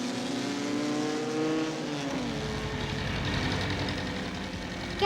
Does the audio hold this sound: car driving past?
yes